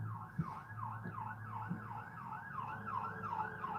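An emergency vehicle siren wails outside at night around 1 a.m., a steady rising-and-falling tone heard at a distance through walls, with faint low thumps beneath it.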